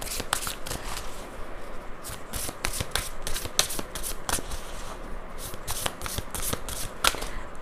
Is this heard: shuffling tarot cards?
yes